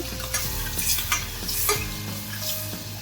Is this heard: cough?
no